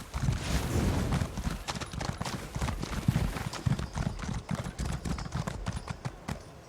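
Rapid horse hoofbeats clatter at a gallop in the fantasy game The Elder Scrolls Online, a steady run of clip-clop strikes heard alone and fairly close, with no talk over them.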